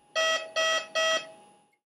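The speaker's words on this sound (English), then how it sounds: "Another alarm is the gas supply fault alarm." Three identical sharp electronic alarm beeps in quick, even succession, loud and tonal, then silence: a gas supply fault alarm on a Vapotherm Precision Flow Hi-VNI unit.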